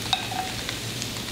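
Kale and meat sizzle in oil in a pan for a miso sauté, a steady soft frying hiss with a few light clicks of stirring, close and moderately quiet, with no talking.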